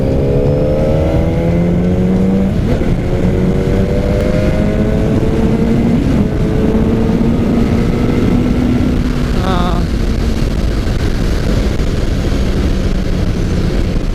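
2021 Honda CBR 600RR motorcycle engine on a test ride, throttle opened: a loud, steady engine roar with pitch sweeping upward and dropping between gear changes, close and continuous, with wind noise.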